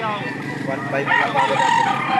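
At a noisy chicken market, a rooster lets out a loud, sustained crow that swells in the second half, set against clucking birds and general crowd bustle.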